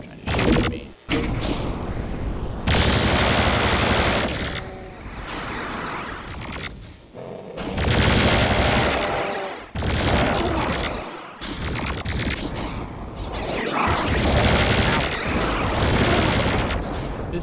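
Loud, dense bursts of enemy gunfire and booming blasts from a retro first-person shooter video game, coming in long sustained volleys broken by brief silent gaps.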